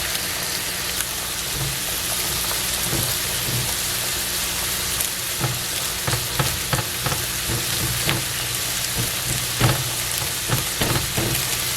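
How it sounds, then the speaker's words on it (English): An egg sizzles steadily in a pan of rendered bacon fat after the bacon has cooked, a loud continuous crackle with scattered sharper pops and light scraping, no voices. "I'm going to go ahead and throw in the egg"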